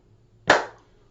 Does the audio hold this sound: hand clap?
yes